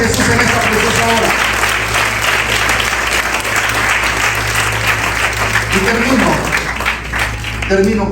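A church congregation applauds loudly and steadily during a Spanish-language Christian sermon, a dense wash of clapping filling the whole stretch, with a voice speaking at the start and near the end.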